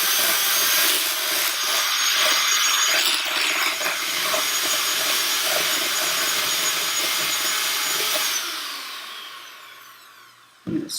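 Electric beater whisking egg in a bowl until silky, a steady bright whirring with scraping texture, close and continuous, fading out near the end, with no voices.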